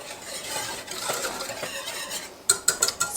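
Spoon stirring apple pie bread pudding mixture in a pot over medium heat, a soft, continuous swishing that ends in a few sharp metallic clinks against the pot's side.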